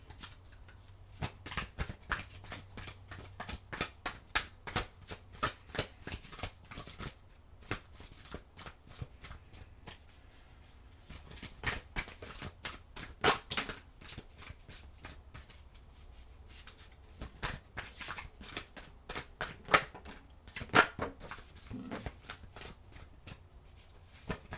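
A deck of tarot cards shuffled by hand, quick riffling bursts repeating in clusters with brief pauses, close and fairly quiet, with no talking.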